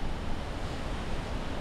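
Rising floodwater rushing steadily during a typhoon at night, a loud, continuous broadband roar with wind buffeting, no voices.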